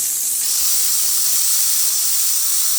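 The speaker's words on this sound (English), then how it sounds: "Let's try the steam first. You can see beautiful strong steam." Steam wand of a Rancilio Silvia espresso machine, freshly serviced, blasting a strong, steady high-pitched hiss that holds at full loudness for about three seconds with no voices.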